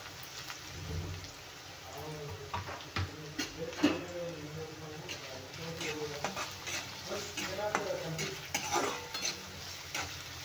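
Finely chopped onion fries in hot oil. The soft, faint sizzle is broken by light clinks and scrapes of a utensil stirring in the pan.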